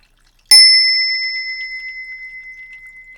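A meditation bell is struck once after a short silence, giving a bright, clear ring that hangs on and slowly decays with a gentle pulsing shimmer, loud and alone.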